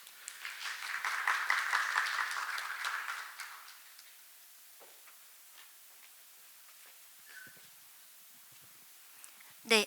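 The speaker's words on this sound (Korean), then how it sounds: "박수로 환영해 주시기 바랍니다." Audience applause at an academic martial arts seminar welcoming a presenter, a few seconds of rapid clapping that dies away, followed by quiet room noise and small shuffles.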